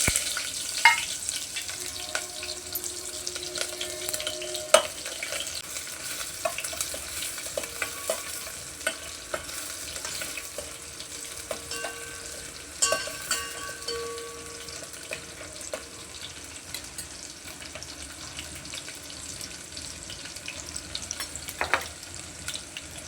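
Crushed garlic and finely chopped onion fry in a pan with a continuous sizzle, while a spoon scrapes and clinks against the metal now and then, close and moderately loud.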